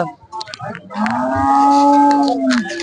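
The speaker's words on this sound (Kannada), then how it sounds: "ಇಲ್ಲೊಂದು ಜವಾರಿ ಹಸು ಇದೆ ನೋಡಿ" A cow gives one long, loud, drawn-out moo up close at a cattle market in Laxmeshwar, Karnataka, with faint background commotion before it.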